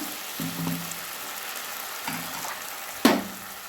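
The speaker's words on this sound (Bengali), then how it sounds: "এবারে কাজু বাদাম বাটাটা দিয়ে দিলাম," Cashew paste goes into a hot pan of frying garlic and ginger, giving a few short bursts of sizzling and stirring close by, with a louder hiss near the end and quiet frying between bursts.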